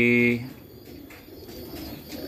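A tomprang racing pigeon in a breeding loft gives a brief, loud, close coo at the start, followed by someone talking over faint background noise.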